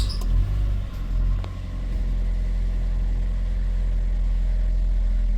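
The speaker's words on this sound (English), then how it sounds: "It does that squeak. It's got a new alternator belt. Still squeaks." A Ford Ka engine running, fitted with a new alternator belt that still squeaks: a low steady mechanical hum close by. A couple of faint thin squeaks come early, then a constant drone.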